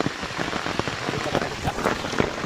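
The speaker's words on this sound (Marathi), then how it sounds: "पाऊस आला आहे" Steady rain patters densely on surfaces nearby, a continuous wash of drops with no pauses, during traditional fishing in Konkan.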